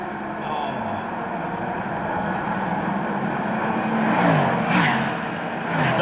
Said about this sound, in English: Daytona prototype sweeping through.